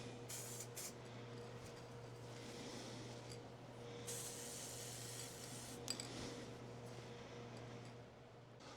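A continuous hissing spray of matte black spray paint with a few louder bursts, over a steady low hum in a quiet room near a lathe.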